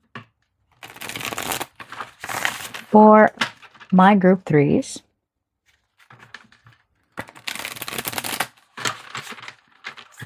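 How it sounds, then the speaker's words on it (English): A deck of oracle cards is shuffled by hand for a pick-a-card love reading, in crisp riffling bursts at close range, with a short stretch of talk in the middle before the shuffling resumes. "Let's give these a good shuffle."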